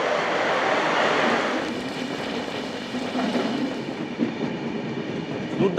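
Passenger train running on rails in Odisha, a continuous near rumble and rushing roar with faint rhythmic clatter of wheels, steady for the whole stretch with no talk.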